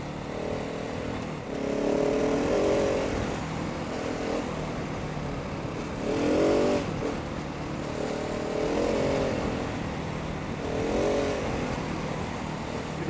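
A Husqvarna 701 motorcycle on a road test ride, its engine droning steadily with several swelling revs and gear changes, loud and continuous throughout with no talking.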